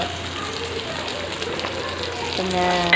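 Onions sautéing in a pan for a Tamil crab curry (nandu kulambu), a steady soft sizzle and crackle running throughout, with a faint tonal sound entering near the end.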